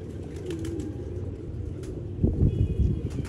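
A favourite fancy pigeon from a kabootar bazi loft in Haripur Hazara coos faintly before a sudden burst of wing flapping close by near the end.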